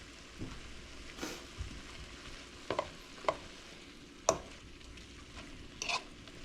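Apples cooking down in a pan, a faint low sizzle with a few sharp clicks and stirring scrapes scattered through it, no voices over it.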